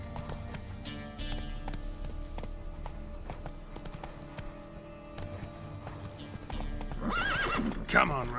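Roach, the horse of Geralt in The Witcher 3 video game, clip-clops at a steady gallop and lets out a whinny near the end, with game music and voices running underneath.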